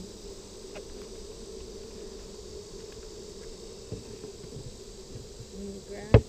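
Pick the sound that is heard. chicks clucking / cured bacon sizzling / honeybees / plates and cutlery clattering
honeybees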